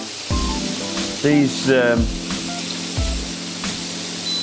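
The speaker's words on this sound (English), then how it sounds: "The next thing now is, of course, is just to wait for this to continue to fry." Pork chops deep frying in hot oil give a steady broadband sizzle throughout, with someone talking over it in the foreground.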